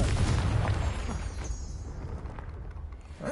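A Confringo spell explosion in the Hogwarts Legacy video game bursts out as a loud, deep boom that slowly fades over a few seconds, heard alone.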